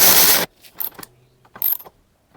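A 10 mm bolt being refitted on a Prius headlight assembly: a burst of hiss and then several short metallic clicks and ratcheting rattles close by, separated by brief pauses.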